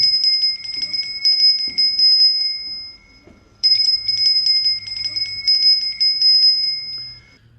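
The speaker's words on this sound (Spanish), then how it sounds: "Tocaron la campana," A bell rings to call people back to the temple in two long, insistent bursts of rapid ringing separated by a short pause, loud and clear over quiet surroundings.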